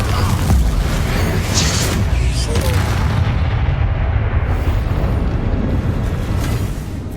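Bombarda and Confringo spells in the Hogwarts Legacy video game set off a dense, continuous roar of magical blasts and booming impacts, loud and sustained, with game voices mixed in.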